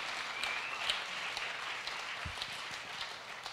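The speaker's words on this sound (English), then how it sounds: "the biggest round of applause for our founders and the teams" Steady applause from a demo day audience at a biotech startup accelerator event, filling the room evenly at moderate volume for several seconds.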